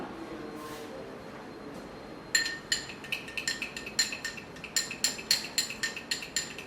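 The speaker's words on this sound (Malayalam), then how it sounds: "ഇട്ടതിന് ശേഷം നമുക്ക് ഇത് നന്നായിട്ടൊന്ന് മിക്സ് ചെയ്തെടുക്കാം" A spoon clinks repeatedly against a bowl while aloe vera gel is stirred into a homemade face pack, starting after a quiet pause and continuing as a quick, irregular run of sharp, close taps.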